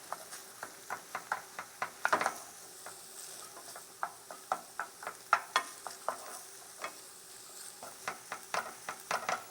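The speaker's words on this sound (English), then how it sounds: "Keep stirring that around till everything's cooked good and even." Food sizzles in a pan for a baked shad with shad roe stuffing recipe while it is stirred, with soft scraping strokes and taps over a steady, quiet frying hiss.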